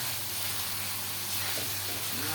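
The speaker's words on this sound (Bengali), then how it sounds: "হয়ে গেছে আমার মশলা কষানো, এখন দিয়ে দেবো কাঁচা মাছ।" Raw fish lands in hot oil with spices that have been fried down, and it gives a steady, even sizzle and hiss, moderately quiet and close, lasting throughout with no pauses.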